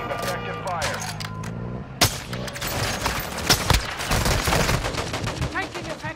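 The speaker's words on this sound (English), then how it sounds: "Taking effective fire!" Rapid bursts of video game gunfire from a military shooter, sharp cracks and automatic volleys close by, with voices talking over the firing and shouting amid the chaos.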